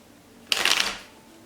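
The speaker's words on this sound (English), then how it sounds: "let me just put more cards on this devil here." Tarot cards being laid out during a card reading: one brief, close papery rustle and slap lasting about half a second, alone against a quiet room.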